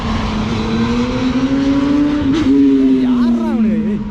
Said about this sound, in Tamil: இந்த பைக்கெல்லாம் இவ்வளோ சவுண்டாக போகுது, நாய்ஸ் பொல்யூஷனில் பிடிக்க மாட்டாங்களா?